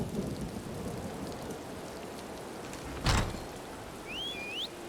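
Steady rain hisses over a stormy Elder Scrolls Online landscape, with a sharp crack of thunder about midway and a faint whistling tone near the end, all without talking.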